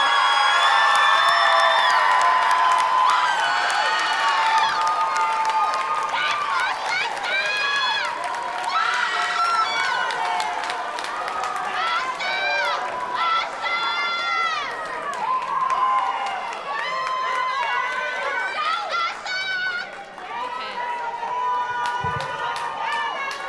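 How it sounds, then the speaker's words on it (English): Graduation ceremony crowd at Lincoln West School of Health and Science, 2023: sustained loud cheering, whoops and shrill shouts from many voices with scattered applause, rising and falling for over twenty seconds. "Get more time to cheer for your graduates"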